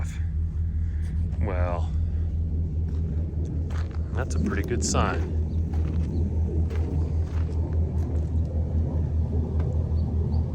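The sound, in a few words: Jeep Wagoneer engine firing up and running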